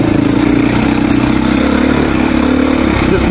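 A 2024 Beta dirt bike four-stroke engine accelerates hard on a demo ride, a loud, close, continuous buzzing drone with a steady pulsing rhythm.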